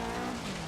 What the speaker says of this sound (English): which is the 2008 Subaru WRX STI